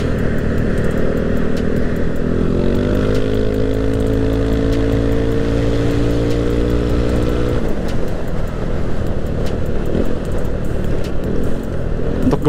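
A Yamaha Aerox scooter with a 200cc bore-up engine drones loudly while being ridden, its engine note climbing in pitch, holding, then dropping as the rider eases off before settling back into a steady hum.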